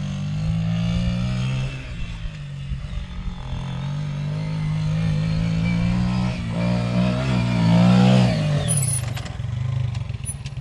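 Yamaha Mini Raptor 80 ATV engine droning steadily while running on a dirt track, its pitch rising as it accelerates and peaking near the end, heard close and loud with no talking.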